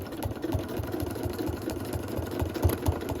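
A domestic sewing machine stitches quilting lines, its speed set by a foot pedal, producing a fast, even mechanical whirr with a rhythmic low thump, close and steady throughout.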